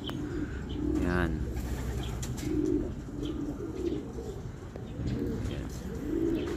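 Racing pigeons coo repeatedly in soft, low rolling calls, with a brief chirp and rustling among them, fairly close by, at a club training session in Cabanatuan, Nueva Ecija.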